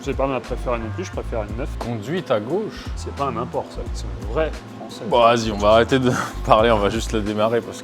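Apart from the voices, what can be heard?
No everyday noises stand out.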